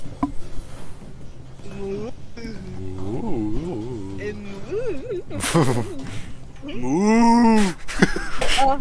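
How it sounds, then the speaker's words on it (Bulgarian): A cow in a video game lets out several drawn-out moos, one short call and then a longer, louder one near the end, mixed with excited voices and game noise. "Най-голямата крава се обади."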